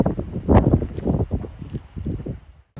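Tropical storm wind heard from inside a farm feed room buffets in irregular rumbling gusts, loud and close, before cutting off abruptly at the end.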